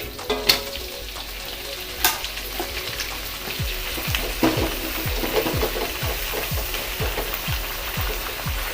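Rengginang rice crackers frying in hot oil give a steady close crackle and bubbling sizzle, with sharp pops and rattling clinks from the pan scattered through the run.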